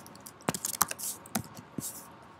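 A few separate keystrokes tap on a computer keyboard, sparse, sharp clicks close up in a quiet room.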